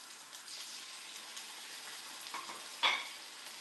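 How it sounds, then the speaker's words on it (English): Chicken skewers sizzle steadily in a frying pan, a soft, even hiss held close with one brief louder crackle near the end and no talk. "I want to let it sit undisturbed on one side for 2 to 3 minutes before I flip it. So there's a nice sizzle."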